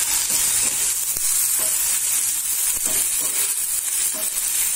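Tomato sizzling steadily in a hot pan, a broad bright hiss filling the clip with occasional scraping strokes of a spatula stirring, close and continuous, no voices.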